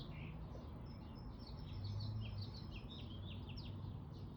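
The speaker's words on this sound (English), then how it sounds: "Enjoy the birds for a sec." Small birds chirp and tweet outdoors in a steady scatter of short calls, moderately faint over a continuous low background rumble, with no one speaking.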